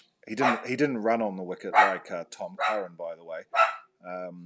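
A pet dog barks intermittently in the background while someone talks steadily about cricket in the foreground.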